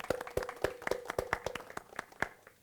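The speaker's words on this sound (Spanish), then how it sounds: "Déjame presentarle de todas maneras un aplauso para Irving" A small audience at a climate action panel claps briefly, about a dozen sharp, fairly close hand claps in an uneven rhythm that soon taper off, with no speech.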